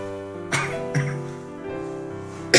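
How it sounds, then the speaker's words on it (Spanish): A person coughs in a few sharp, loud bursts, with pauses between them and a final cough at the end, alone without speech. "me disculpa porque tengo un poquito de tos"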